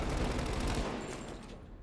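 Gunfire in Call of Duty: Black Ops Cold War, a dense rattle of shots with rumbling that is loud at first and then thins and fades.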